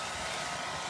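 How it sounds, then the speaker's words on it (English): A hair dryer set on low blows steadily and loudly, drying water and paint inside a glass ornament being made to look like mercury glass; the airflow forms a continuous broadband whoosh with no talk. "now you want to use your hairdryer for sure"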